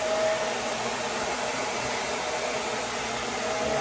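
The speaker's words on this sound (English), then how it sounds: "You sit under your hooded dryer." A hooded hair dryer blows with a steady, continuous whoosh, close and constant with no pauses.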